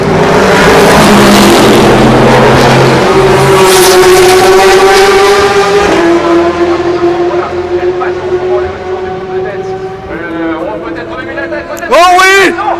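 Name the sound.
race cars at 24 Hours of Le Mans 2016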